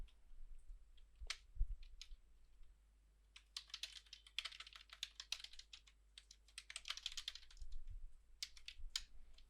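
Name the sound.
typing code on a computer keyboard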